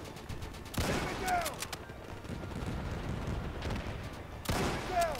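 Gunfire in the World War II shooter Easy Red 2, bursts of rifle and machine-gun shots with whizzing rounds and echoing distant fire, a loud flurry at the start and another near the end.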